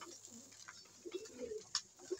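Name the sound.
pigeons cooing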